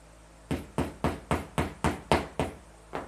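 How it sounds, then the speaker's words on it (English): A soft-tipped hammer taps a part into place on a Smithy 1220 LTD machine, about eight evenly spaced, moderately loud knocks in a steady rhythm, close by. "with a soft tip hammer, I'm just going to carefully tap that in"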